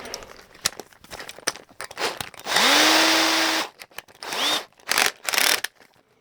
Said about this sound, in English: Let me get a cone cutter. Get my electric drill back out.